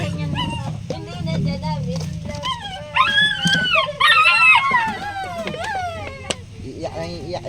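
A puppy cries and whimpers in high, wavering wails and yips, repeated through the clip close by, with people talking underneath.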